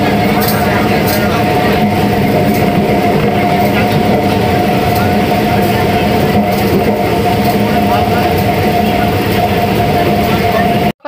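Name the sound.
train running on rails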